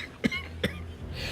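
A person coughs twice in quick succession, close and moderately loud, with a short pause between the coughs and faint background noise afterward.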